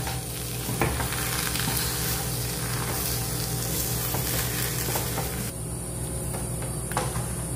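Rice flour, grated coconut and date gravy being mixed together by hand for khejur moa, a soft continuous wet squelching and stirring texture with faint crackly bits, no speech.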